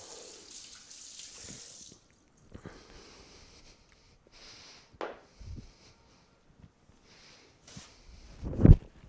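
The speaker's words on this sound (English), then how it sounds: "dump the water out of this bowl and this bowl" Water poured out of bowls into a kitchen sink, a few short splashing pours separated by quiet gaps, ending with a louder splash and clatter close by.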